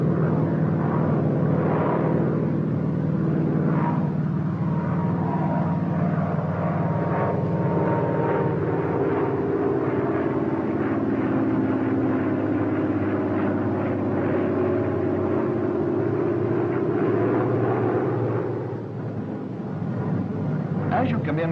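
An F6F Hellcat fighter plane in flight, its engine a steady loud drone that holds throughout with slight swells and a brief dip near the end.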